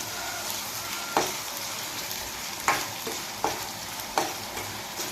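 Raw green masala with salt fries in a pan for a raw-mango fish curry, giving a steady close sizzle broken by four or five sharp scraping stirs; no voices.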